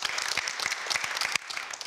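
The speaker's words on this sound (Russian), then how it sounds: "Аплодисменты" Steady applause from a TV studio audience, dense clapping throughout that drops slightly in intensity near the end.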